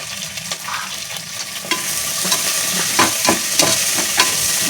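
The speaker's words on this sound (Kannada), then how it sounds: "ನೋಡಿ ಇವಾಗ ಫ್ರೈ ಆಗ್ತಾಯಿದೆ" Onions frying in oil for spinach pulao, a bright close sizzle that builds in intensity, punctuated by rhythmic spatula stirring and scraping against the pan.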